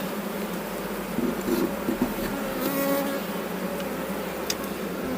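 Honeybees buzz around an opened beehive during an inspection, a steady close droning swarm with a few louder passes as individual bees fly near.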